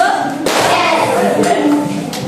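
A classroom of students does a rhythmic spirit clap, a few loud broadband bursts spaced about a second apart over a steady noisy room din, with children's voices mixed in.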